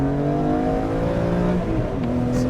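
An Interlagos Blue BMW E46 M3 with Dinan parts, redlining at 8,000 RPM, revs with a loud, smooth, sustained engine wail that holds its pitch and then drops sharply near the end as the revs fall.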